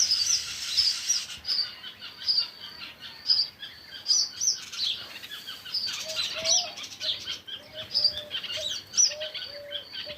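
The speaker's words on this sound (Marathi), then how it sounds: "हा पक्षी बघा कसा आरडतोय" Repeated high, sharp bird calls ring out in bursts over a soft outdoor background on a farm, fairly close and clear.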